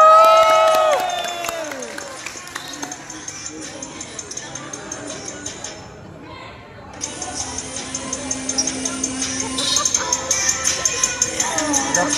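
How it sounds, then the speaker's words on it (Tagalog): A crowd cheers and applauds at halftime of the North Leyte vs TCFS basketball finals at the BFP Sportsfest 2024. A voice on a loudspeaker talks at the start. Then a steady roar of broadband crowd noise swells and briefly dips before rising again. "Palakpak naman kayo dyan."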